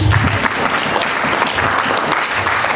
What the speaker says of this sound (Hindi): जोरदार तालियां हो जाए अपने लिए।